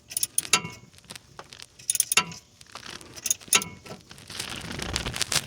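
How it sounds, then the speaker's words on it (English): Ratchet fitted with a 14mm six-point socket snugging down an oil drain plug on a 2006 Nissan 350Z, a few close, quick bursts of metallic clicking separated by short pauses, with no talk. "we're going to grab our ratchet. Put the 14mm."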